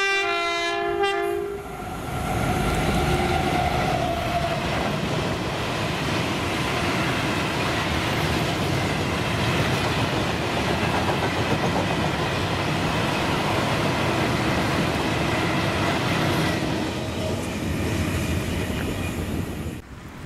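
An engineers' train hauled by locomotive 7810 passes through Longniddry station in Scotland, opening with a sharp horn blast and then a long, loud, steady rumble of wagons rolling by that fades slightly at the end.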